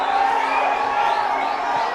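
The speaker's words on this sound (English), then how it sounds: "Crowd settling down here at Port Vila Stadium." A stadium crowd at a football final in Port Vila settles down, a continuous murmur of many voices with a faint swell of cheering, steady and moderately loud.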